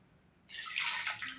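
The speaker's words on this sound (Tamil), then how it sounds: "3 கப் பொரிக்கு 1 கப்பு நல்லா வெல்லம் பாத்திரத்தில் போட்டுட்டு இதால் 1/2 கப் தண்ணி ஊற்றிக்க." Half a cup of water poured into a pot of jaggery for making a syrup, a brief, soft splashing rush that starts suddenly and continues steadily, heard close and alone.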